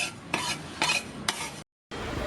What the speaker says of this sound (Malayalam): ഫ്ലെയിം ഓഫ് ചെയ്താൽ ഒരു 2 മിനിറ്റ് ഒന്ന് ഇളക്കി കൊടുക്കുക.